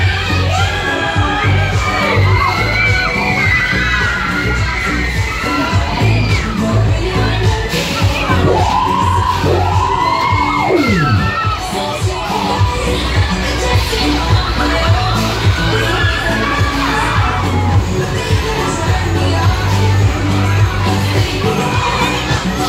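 Riders on the Rolling Thunder waltzer at a fun fair in Easington Colliery shout, whoop and cheer loudly and continuously, with a crowd din and shrill rising and falling screams over the thumping fairground music.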